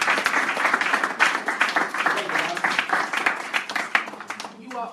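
A church congregation claps loudly and rhythmically at a sermon, with voices and cheers mixed into the applause.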